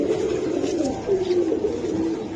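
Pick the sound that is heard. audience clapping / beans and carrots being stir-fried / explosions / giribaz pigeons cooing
giribaz pigeons cooing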